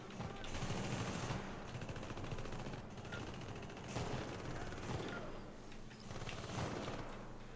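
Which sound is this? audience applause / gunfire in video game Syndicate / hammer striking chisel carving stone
gunfire in video game Syndicate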